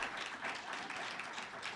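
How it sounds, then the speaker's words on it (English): Audience applause in a hall after people are asked to stand, a steady, fairly soft wash of many hands clapping with no voices over it. "could you please stand and get a round of applause?"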